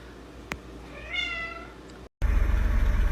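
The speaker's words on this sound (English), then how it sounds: "I think one of my favorite things about having a cat is little meow after you touch him." A pet cat lets out a single short meow right after being touched, close and clear over a quiet room, followed by a sudden loud rumbling noise.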